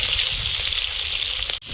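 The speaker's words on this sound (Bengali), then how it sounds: "কড়াইতে তেল দিয়ে দেবো, তেলে পেঁয়াজ কুচি দিয়ে দেবো" Chopped onion frying in hot oil in a wok, a steady bright sizzle that holds at an even level, close and alone, ending with a brief sharp break.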